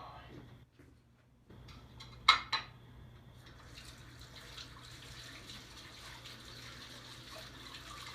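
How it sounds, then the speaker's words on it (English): A bathroom tap runs steadily while hands are washed, a soft continuous hiss of water with a couple of brief clinks near the start, close and moderately quiet. "Gonna wash my hands, dry them off real quick."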